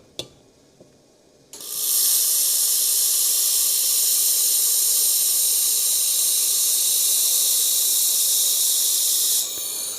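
Laser welding of stainless steel without filler wire at 12% power gives a steady, loud broadband hiss that runs unbroken for about eight seconds, with a brief click and quiet hum before it starts.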